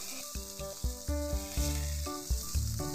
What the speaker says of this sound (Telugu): మసాలా దినుసులన్నీ వేసేసుకొని వీటన్నిటిని చక్కగా ఆయిల్లో ఫ్రై చేసుకోవాలి